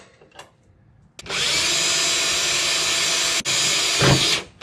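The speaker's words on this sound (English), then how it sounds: "now that we have a pilot hole drilled" A power drill whirs steadily for about three seconds drilling a pilot hole for a Jeep Wrangler hood strut bracket, with a brief stutter midway, close and loud, preceded by faint handling clicks.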